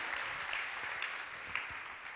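A church congregation applauds during a Spanish-language Sunday service, a dense continuous wash of many hands clapping, steady and moderately distant, with no one speaking.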